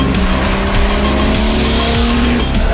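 A 1972 Porsche 911 Carrera RS with a 2.7-liter engine drives loudly and close, its engine note holding steady and shifting in pitch in repeated sweeps, like gear changes, with no voices.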